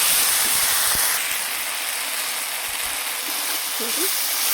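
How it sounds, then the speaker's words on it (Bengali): Spice paste with turmeric being fried and stirred in a pan for a Bengali rohu fish curry, a steady loud sizzling hiss running throughout with a few faint clinks. "এখানে যে বেটেছিলাম মশলাটা সেটা দিয়ে ভালোভাবে মশলাটাকে কষিয়ে নেব"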